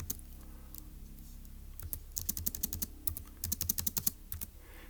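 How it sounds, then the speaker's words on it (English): Fingers tap out a short entry on a computer keyboard, crisp individual clicks arriving in irregular bursts after a quiet start, fairly close and with no speech. "let me type up 3, 4, 1"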